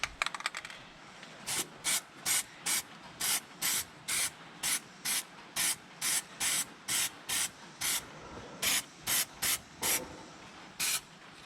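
A spray paint can hisses onto a John Deere 9400 combine in about twenty short, evenly paced bursts, close and clear with no talking.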